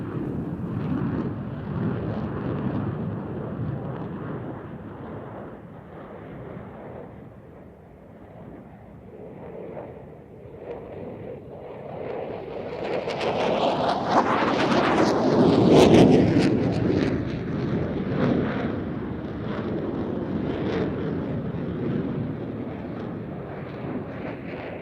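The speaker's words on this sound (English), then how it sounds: "I hope you've enjoyed this comparison of the JF-17 and F-16, recorded, as I say, at Airshow Turkey 100 in Izmir in 2011" JF-17 and F-16 fighter jets fly a side-by-side Cuban 8 at Airshow Turkey in Izmir in 2011, their broad jet roar swelling to a loud peak as they pass, then fading under steady wind noise, with no voices.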